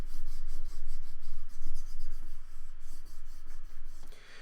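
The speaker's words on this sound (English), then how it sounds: "my wooden spoon and really rub the back" A wooden spoon rubs hard across the back of a sheet of paper to transfer a high-contrast black-and-white image, making close, steady scraping strokes in a repeated back-and-forth rhythm with brief pauses between passes.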